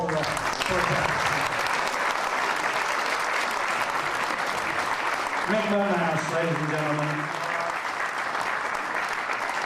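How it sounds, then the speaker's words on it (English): Sustained audience applause fills a wrestling legends parade at the 2008 LDN Legends Showdown, loud and continuous throughout, while an announcer talks over it. "let's give them all a big round of applause for that"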